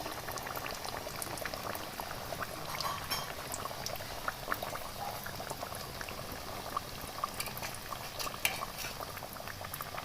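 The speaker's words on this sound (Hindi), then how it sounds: "बिल्कुल मीडियम से टू लो फ्लेम पे हमने इनको फ्राई करना है" Kachori deep-frying in hot oil over a medium-to-low flame, a continuous soft bubbling sizzle with scattered pops and crackles, steady and close.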